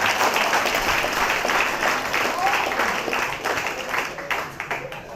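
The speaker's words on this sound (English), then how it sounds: "Give him a round of applause again." Sustained applause from an audience at the launch of a prison futsal program at Remand Yard, dense steady clapping filling the whole stretch with crowd noise beneath, fading slightly toward the end.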